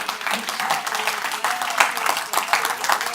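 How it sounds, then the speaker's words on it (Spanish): A church congregation applauds during a Sunday morning service, a steady wash of clapping hands filling the room for a few seconds, with a voice faintly heard over it. "Denle un aplauso al Señor esta mañana."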